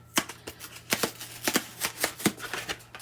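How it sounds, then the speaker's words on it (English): Aluminum foil being handled and pulled apart in a kitchen while preparing turkey drumsticks, a run of crisp, crackling rustles in irregular bursts, close and fairly quiet with no talking. "Let's open up the foil paper."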